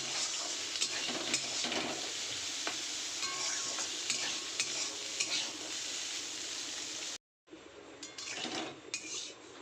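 Chowmein stir-fried in a pan at home, a continuous bright sizzle with frequent scraping and clinking of a spatula against the pan, briefly cut off near the end before the sizzle resumes.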